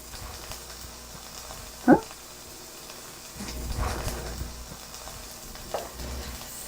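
Egg frying sunny side up in a pan, the white setting around a runny yolk, gives a soft steady sizzle with a brief louder scrape near two seconds and a slightly fuller crackle later, close and fairly quiet.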